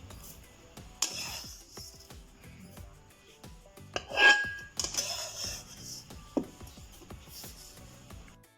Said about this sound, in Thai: สุกแล้ว เอามาใส่โขกตำเลย